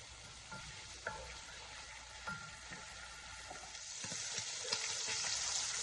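Meat browning in a pot for pasta fazool, a steady close sizzle that grows louder toward the end, with scattered light ticks and pops and no voices.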